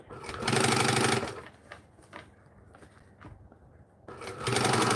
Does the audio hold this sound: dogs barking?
no